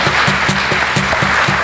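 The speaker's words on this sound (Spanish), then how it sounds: "Un aplauso para él también." A crowd at a live music show claps for a musician in a rhythmic, fairly even beat, loud and close, a steady round of applause with no voices on top.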